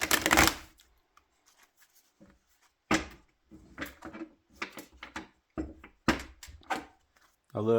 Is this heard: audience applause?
no